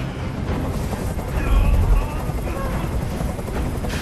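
A helicopter in the video game Detroit: Become Human roars as a dense, steady rotor rumble that swells slightly midway, loud and continuous, with faint sharp game effects mixed in.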